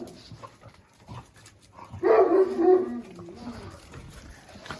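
A Jack Russell terrier gives a burst of growling and whimpering in the middle, fairly close and moderately loud, with quieter rustling and faint sounds before and after.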